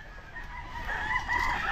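A breeding rooster crows loudly among a flock of chickens, its drawn-out call rising over the background clucking of the birds.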